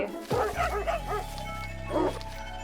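A dog gives a few short barks and yips nearby, a burst at the start and another near the end, over a steady background hum.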